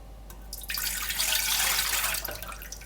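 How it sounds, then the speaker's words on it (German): Warm water pours steadily into a food processor bowl for bread dough, a continuous splashing rush that swells after a short trickle and lasts about two seconds before tapering off, with no voices. "Als erstes fülle ich meine Flüssigkeit ein."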